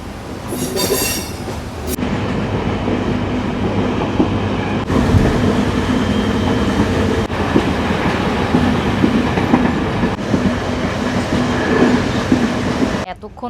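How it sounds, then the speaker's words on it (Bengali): Aboard the Jaffna to Colombo Intercity Express as it switches onto a single line: a loud, continuous rolling roar with a sharp wheel squeal at the start and periodic clicks over the rail joints. "ট্রেনটা এবার বাঁদিকে যাবে, বাঁদিকে গিয়ে এই লাইনটার মধ্যে উঠবে"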